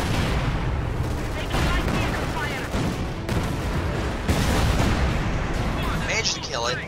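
Artillery and gunfire in the World War II strategy game Company of Heroes 2 during an online match with Tiger tanks. Dense, continuous booms and crackling shots keep up a loud, busy battle bed, with some higher squealing effects near the end.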